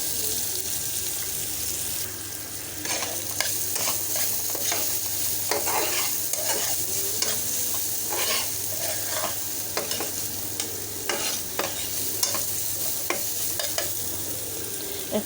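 Grated coconut stir-fried with jute leaves in a pan, a Barisal-style dish, gives a steady close sizzle broken by repeated scraping strokes of a spatula across the pan, with a faint running tap in the background.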